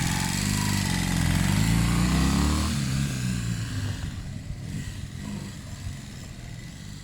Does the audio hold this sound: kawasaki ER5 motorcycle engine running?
yes